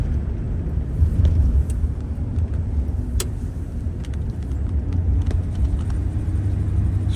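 A 1960 Cadillac Series 75 limousine rolls over road bumps, giving a steady low rumble of engine and road noise from inside the cabin, with a few faint knocks from the suspension.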